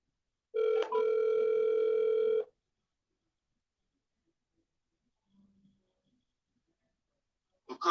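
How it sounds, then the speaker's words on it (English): A phone rings once with a steady electronic tone lasting about two seconds, followed by near silence and a faint blip. "Maybe it's my phone."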